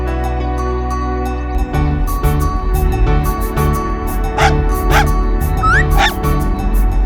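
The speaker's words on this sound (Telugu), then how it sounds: "ఆ రోడ్డు మీద ఒక చిన్న కుక్క పిల్ల ఉంది" A puppy whimpers in a few thin, rising whines over a steady low engine rumble.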